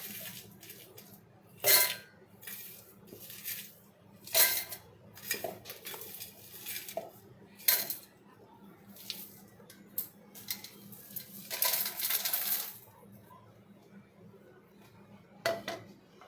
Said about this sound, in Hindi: अब ये मिक्सी जार में हम आइस पीसेस डाल लेंगे।